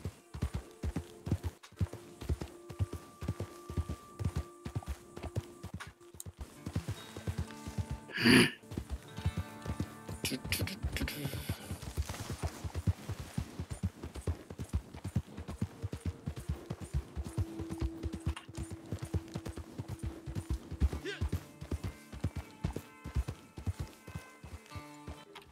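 Horse hooves clip-clop in a steady running rhythm in Red Dead Redemption 2, continuing under game sounds for the whole stretch, with a brief louder burst partway through.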